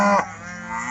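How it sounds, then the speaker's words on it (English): Cattle lowing on pasture, a single loud close moo that tapers off into quieter ambient sound. "Ty's ready to let the cows out. I think they're upset with me."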